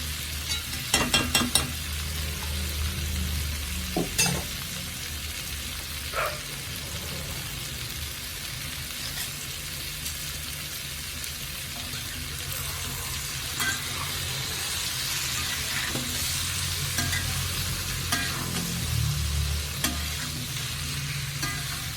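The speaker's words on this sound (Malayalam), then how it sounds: "നന്നായിട്ട് ഇളക്കി യോജിപ്പിക്കാം" Asafoetida frying in oil for an amla pickle, stirred in the pan with a soft, constant sizzle and a few sharp utensil clicks early on, then intermittent scrapes.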